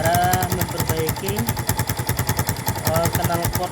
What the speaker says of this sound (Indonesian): Ini motor saya yang lagi ini ya bocor knalpotnya.